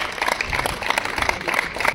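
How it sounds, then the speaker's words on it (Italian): An audience claps for the mayor of Arienzo at a meeting of valley mayors for the Suessola Padel opening, a moderate, uneven patter of hands with some crowd murmur underneath. "Un applauso prima al sindaco di Arienzo."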